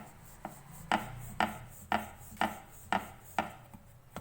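Pizza dough rolled out on a board, with a regular series of about seven rhythmic rubbing strokes and soft knocks, close and fairly quiet, no voices.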